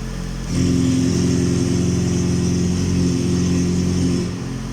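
A Tofaş Doğan 1.6 ie car engine fires up after sitting for a week, jumping from a low background rumble into a loud, steady, slightly rough idle that holds for several seconds before settling.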